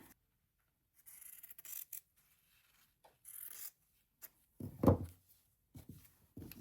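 Scissors cutting fabric for a patchwork Christmas stocking ornament, heard as a few short, quiet, close snips spaced apart with silent pauses between them and no voices.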